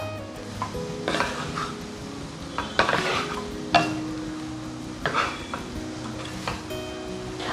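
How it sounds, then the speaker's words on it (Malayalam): Chicken curry with onion and salt being stirred in a pan: a gentle sizzle under repeated clinks and scrapes of a metal spoon against the pan, close and irregular, with no talking. "ഉപ്പ് ചേർത്തതിന് ശേഷം നന്നായിട്ട് നമുക്കൊന്ന് മിക്സ് ചെയ്ത് യോജിപ്പിച്ചെടുക്കാം."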